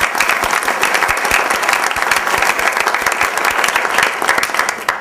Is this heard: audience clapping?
yes